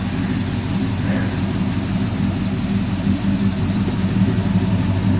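A 2004 Toyota Tundra pickup with a modified exhaust idles with a steady, deep rumbling exhaust note, loud and close, holding constant without revving.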